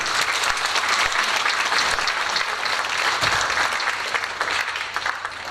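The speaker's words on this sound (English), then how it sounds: "you deserve a round of applause for sure" A high school concert audience gives sustained applause, a thick, loud wash of many hands clapping throughout with no speech over it.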